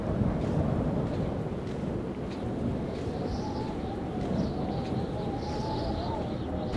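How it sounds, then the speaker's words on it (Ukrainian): Strong wind gusting steadily at a sandy beach, a constant roaring rumble buffeting the microphone, loud and unbroken throughout. "Ой, такий сильний вітер, і цей пісок віз по ногах."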